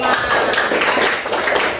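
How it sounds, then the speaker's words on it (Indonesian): A classroom claps for a student presentation group in a short, close burst of applause, uneven and lively, with faint voices mixed in. "Oke, tepuk tangan buat kelompok 5."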